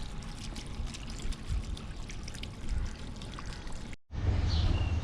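Water running steadily from a public drinking fountain on a street in Yerevan, Armenia, a continuous close splashing flow that cuts off briefly, then resumes louder.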